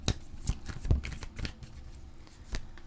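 Playing cards being shuffled by hand ahead of drawing a final card for a Christmas reading, several quick riffles and soft slaps, close and clear, with no voices.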